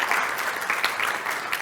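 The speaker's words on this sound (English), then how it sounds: "Please can we have a round of applause for these" Audience applauding panelists at the close of an online democracy conference session, a steady, dense burst of clapping with no voices over it.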